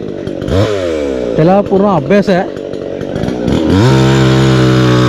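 A chainsaw cuts through a dead cashew tree, its engine revving and bogging in wavering surges before settling into a steady loud drone, with someone speaking over it.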